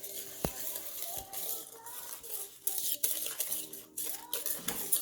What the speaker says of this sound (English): And then you're going to whisk it. So let's just whisk it, and it just takes seconds.